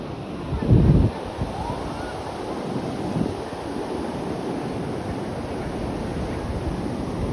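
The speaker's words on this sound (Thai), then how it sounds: "หาดเจ้าหลาวจ้าจันทบุรี" Sea waves wash onto Chao Lao beach in Chanthaburi, Thailand, with one louder surge early on, then a continuous rolling roar of surf mixed with buffeting wind noise on the microphone.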